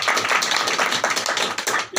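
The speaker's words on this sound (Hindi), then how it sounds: "एक बात तालियां तो हो जाए।" A small group at a home business meeting gives a brief burst of clapping, close and fairly loud, with uneven hand claps lasting about two seconds before stopping.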